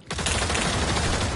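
A dense burst of rapid gunfire from the video game Pavlov VR, loud and continuous for more than a second.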